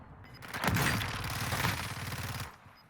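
Fennec submachine gun in Warzone 2 firing a rapid burst of gunfire lasting about two seconds, loud and dense, rising sharply and tailing off at the end.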